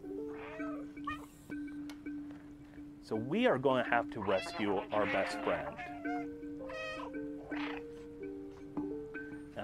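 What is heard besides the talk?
cat meowing in the video game Stray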